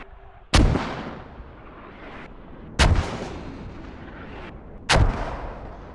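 Mortar rounds in the video game Squad land in three heavy booming impacts spaced about two seconds apart, each a sharp loud blast trailing off into a rumbling decay over faint background ambience.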